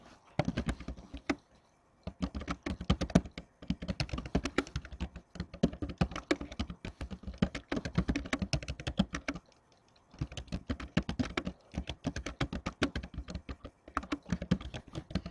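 Rapid typing on a computer keyboard: dense bursts of close, crisp key clicks in quick runs, broken by brief pauses near two and ten seconds, with no voices.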